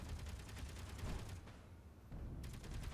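Rapid gunfire rattles through a Space Engineers battle, dense bursts over a low rumble with a brief lull midway before the shooting picks back up.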